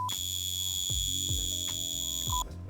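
A mechanical alarm watch rings with a shrill, sustained buzz close by, with a rattling pulse repeating underneath every half second or so.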